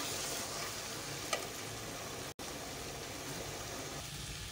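Green chillies added to a brinjal masala, a spiced eggplant curry, frying in the pot: a dense, even sizzling hiss throughout, briefly broken once, close and with no speech.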